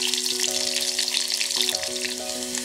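Garlic fries in sesame oil in a clay pot with a steady, close sizzle, while a few sustained musical tones play over it.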